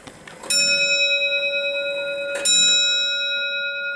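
A circa-1785 antique tall case clock with English brass works strikes its bell twice, about two seconds apart, each clear metallic strike ringing on with a long, sustained shimmering decay in a quiet room.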